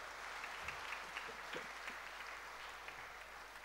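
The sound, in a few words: congregation applause for children in church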